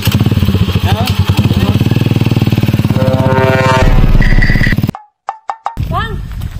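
A motorcycle engine revs up loud and close with a pulsing, rising drone, then cuts out abruptly into a few sharp clattering thumps and a brief rumble afterward.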